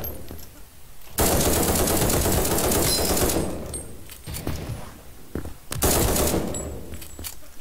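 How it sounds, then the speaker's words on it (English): A light machine gun fires in the online shooter game Krunker, in rapid bursts. A long burst is followed by shorter, choppier volleys, with brief pauses between them. "I hear like an LMG or something."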